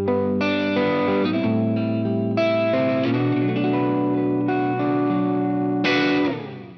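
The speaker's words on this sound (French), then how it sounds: "Vous entendez la queue de réverb ?" An electric guitar played through a Universal Audio UAFX reverb pedal, with pre-delay at zero and no modulation, rings out in sustained chords and notes whose reverb tail lingers and fades at the end, loud and alone.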